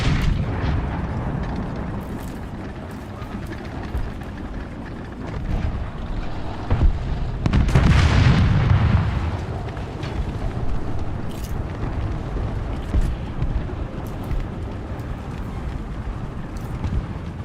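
Artillery explosions in the War Thunder tank game, a steady rumbling barrage with a heavier, louder boom swelling briefly near the middle over continuous low battlefield noise.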